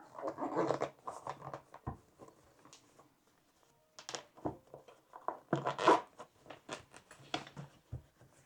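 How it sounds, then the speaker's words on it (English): Zipping up the carry bag of a SunPro portable folding camping stool, with a few short rasping zip strokes and fabric rubbing close by, separated by brief quiet pauses. "stretch and zip over."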